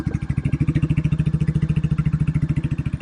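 A Royal Enfield Goan 411 motorcycle engine idles with a deep, bassy, rapid thumping pulse, steady and close, with no talking over it.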